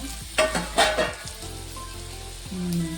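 Bitter gourd palya roasting in oil in a pan, a steady close sizzle with a few louder stirring scrapes early on and a lower frying hiss continuing throughout.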